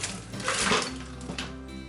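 Quick metallic scraping and clinking of a whisk beating egg yolks with sugar in a saucepan, brisk and close, coming in short irregular strokes.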